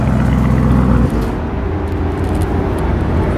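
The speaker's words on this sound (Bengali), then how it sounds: "ওকে এরপর আমরা যেটা কোর্সা মোড সেটা দিয়ে স্টার্ট করব অ্যান্ড ড্রাইভ করব" Lamborghini Urus engine in Corsa mode, a loud, steady low rumble that drops slightly after the first second and then holds a deep idle drone with no talk.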